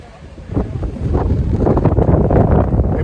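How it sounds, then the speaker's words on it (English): Gusty wind buffets a fishing boat out on Drano Lake during spring Chinook salmon fishing, a steady roaring rumble that grows louder and fuller as the gusts build, heard close with no speech. "It's a little windy"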